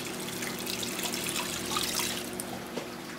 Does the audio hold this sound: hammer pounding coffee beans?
no